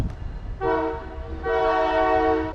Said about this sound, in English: Of course there's a train.